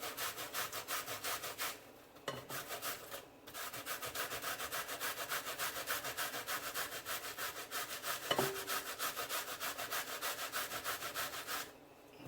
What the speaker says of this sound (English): Just gonna go ahead and grater.